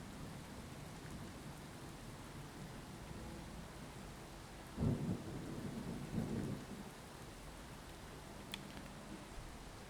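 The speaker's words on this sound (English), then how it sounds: "I don't really want to be walking around in the rain." Steady rain patters under a low rumble of thunder in the video game Skyrim; the thunder swells midway, then fades back into the continuous downpour.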